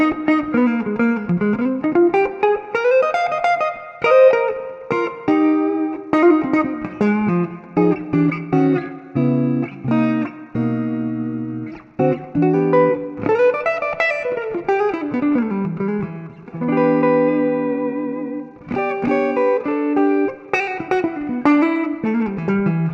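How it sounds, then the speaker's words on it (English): Clean electric guitar with a warm, rounded fake-humbucker jazz tone, playing chords and melodic runs continuously through a TONEX ONE pedal with light reverb. "next tone is my fake humbucker jazz tone"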